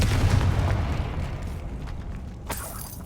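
A Confringo fire spell from Hogwarts Legacy erupts as a loud, close, rumbling blast with a sustained low roar that slowly fades, then a brief crackling burst near the end, with no talking.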